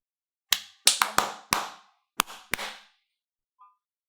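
Seven sharp hand claps in an uneven rhythmic pattern, close and distinct with short pauses between them, followed by a brief faint tone. No voices.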